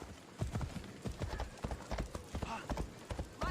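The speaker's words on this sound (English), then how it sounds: "Where's my horse?" Hooves clip-clop in a quick, uneven rhythm close by, a horse trotting along in Assassin's Creed Odyssey over faint background sound.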